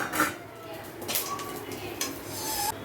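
Coconut and cashew pieces dry-roast over low heat for Kumbakonam sambar powder, with a spoon scraping and clinking against the pan over a soft, faint sizzle.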